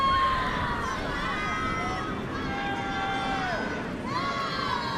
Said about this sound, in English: We got a bunch of Warrior teammates cheering us on.